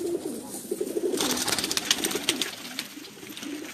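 Pigeons coo in repeated low, throaty phrases at close range, with a steady bed of rustling and flutter-like noise around them.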